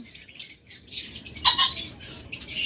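Lovebirds in a cage chirp in quick, high, scratchy bursts, several birds calling close by in overlapping runs with brief pauses between them.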